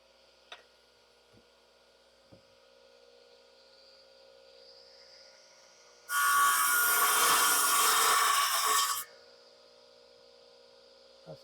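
A chisel pares excess wood from a warped board during a privacy wall build, giving one loud scraping burst of about three seconds in a quiet room, with a few faint taps before and after.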